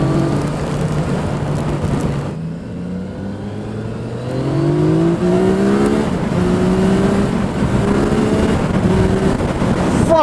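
A Yamaha MT-09 SP motorcycle accelerates hard on a wet road, its engine note climbing repeatedly through the gears in loud rising sweeps, with wind rush underneath.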